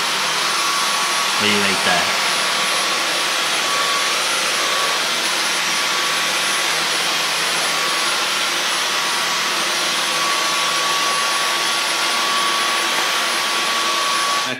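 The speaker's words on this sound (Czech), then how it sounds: "já jdu luxovat." Household vacuum cleaner running continuously at close range, a loud steady whine with broadband airflow noise, a voice briefly audible near the start.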